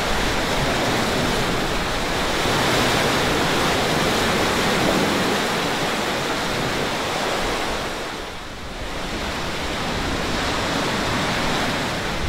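Calm ocean water washing against the rocky Mendocino coast at Van Damme State Park, a steady broadband surf wash with a brief dip in the middle, no voices.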